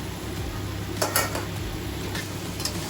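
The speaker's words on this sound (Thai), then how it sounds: "เดี๋ยวเราก็จะเอาเต้าหู้ลงมาเลยค่ะ เต้าหู้ลงไปคลุกเลยค่ะ" Tofu stirred and fried with minced pork in a pan: a steady sizzle with a few clear clinks and scrapes of a utensil against the pan, heard close and without talk.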